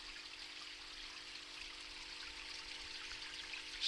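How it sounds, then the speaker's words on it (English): Water trickles down a log into a garden pond beside a small waterfall, a steady soft outdoor splash and dribble that stays even throughout with no voices. "Water's still running down that log from out the woods."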